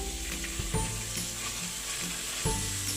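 Peas sizzle and fry in a pan with ginger garlic paste, a steady close crackling hiss with a few scrapes of stirring, no voices.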